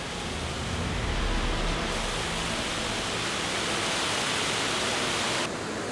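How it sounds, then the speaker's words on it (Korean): Huangguoshu Waterfall in China, about 78 m high and 101 m wide, roars in a dense, unbroken rush of falling water, loud and steady throughout with no other sounds. "원래 황과수 폭포의 낙수 소리는 사방 10리까지 들릴 정도로 웅장하다고 하는데요"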